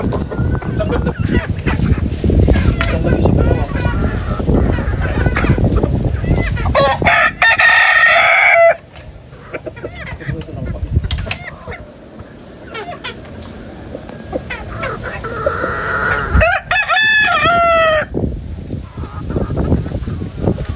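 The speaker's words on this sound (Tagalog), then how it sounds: "marami ditong alagang manok" Chickens cluck busily while a rooster crows loudly twice, once early and once near the end, over rustling and scattered background noise.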